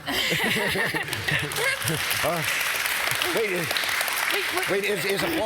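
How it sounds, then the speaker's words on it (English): Audience applause at a talk on the case against education, continuous and loud through the clip, with voices speaking and laughing over it. "Is applause normal here?"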